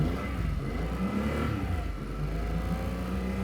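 A tiller outboard boat engine on a lake revs continuously at mid pitch, a steady close droning roar with slight swells in intensity and no talk.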